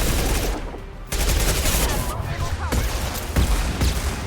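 Pistol fire in the video game Mass Effect 2, dense gunfire and impacts packed into a loud, close firefight, with a brief lull and then more sharp shots.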